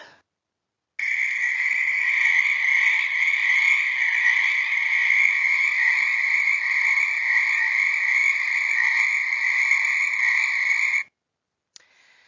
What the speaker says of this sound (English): a little brief recording of some frogs from near my home